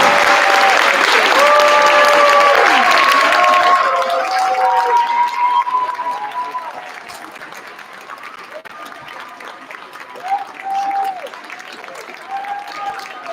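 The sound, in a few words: audience applause as first graders come on stage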